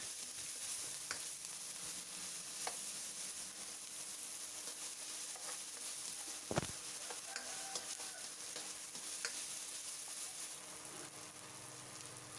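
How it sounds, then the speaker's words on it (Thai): Garlic and chili stir-frying in hot oil for a squid stir-fry, a steady crackling sizzle broken by occasional scrapes and clinks of the spatula, heard alone without talk. "พอน้ำมันเริ่มร้อนก็ใส่กระเทียมพริกลงไปเลยค่ะ ผัดให้กระเทียมพริกของเรามีกลิ่นหอมมันคะ"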